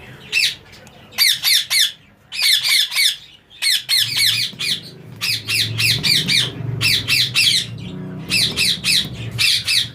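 Green ring-necked parakeets in a breeding aviary: loud, harsh squawks in quick repeated bursts, close by, over a low background rumble.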